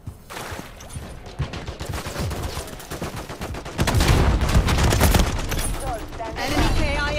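Rapid automatic gunfire rattles in bursts during a Call of Duty Modern Warfare III multiplayer match, growing louder and denser partway through, with booming shots and shouted in-game voices mixed in.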